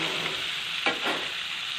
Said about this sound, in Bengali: মশলার সঙ্গে বেশ ভালোভাবে মাখিয়ে ভাজা ভাজা করে নিতে হবে